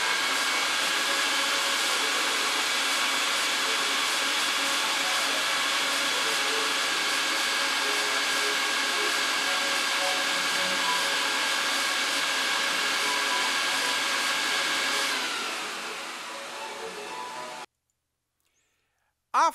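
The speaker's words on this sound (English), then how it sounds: "Let's listen to the vacuum." A powerful rug-cleaning vacuum machine drones loudly and steadily with a high whine, winding down near the end before cutting off.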